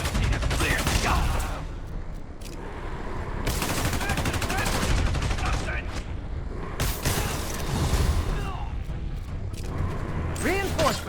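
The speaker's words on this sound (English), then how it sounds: "I'm getting reports of shots fired." Gunfire erupts in Marvel's Spider-Man Remastered during a prisoner hideout fight: repeated sharp bursts and volleys over a dense game soundscape, with voices speaking in between.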